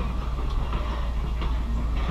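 Safari truck rolling across the Tembo Bridge, a steady rumbling, rattling drive noise with faint higher whine, close and continuous with no talk.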